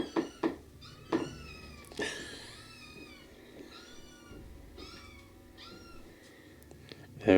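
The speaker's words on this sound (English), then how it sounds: "Kittens wanting a little bit extra food just before night time." Kittens meow repeatedly for food at night, with several overlapping high cries close by and brief pauses between bursts over a quiet indoor background.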